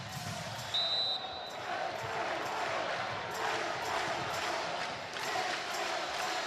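A home crowd at a Hawaii versus Pepperdine NCAA men's volleyball match keeps up a steady roar of cheering and noise, with a commentator speaking over it.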